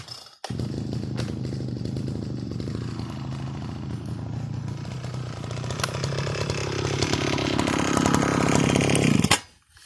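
An Oleo Mac Sparta 440 T brush cutter, long unused, restarts. Its two-stroke engine catches and runs with a loud, close, buzzing drone that rises toward the end before cutting off, and nobody talks.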